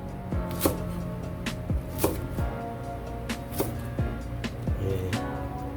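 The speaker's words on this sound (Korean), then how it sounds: "부추는 한 3cm 간격으로 썰면 됩니다." Knife chopping garlic chives into roughly 3 cm lengths on a cutting board for a Korean onion salad; a steady series of crisp, close thuds falls about every half second, with no talking.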